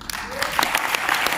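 Dense clapping from an audience seated in a hall, a steady wash of many hands applauding together, loud and sustained without pause.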